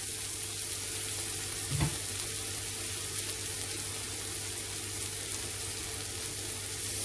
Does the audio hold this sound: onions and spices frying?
yes